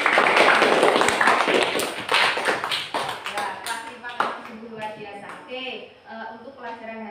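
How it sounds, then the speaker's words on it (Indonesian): An Indonesian classroom bursts into clapping for each student group, dense applause fading over several seconds as a teacher's voice comes through on top. "Tepuk tangan untuk masing-masing kelompok"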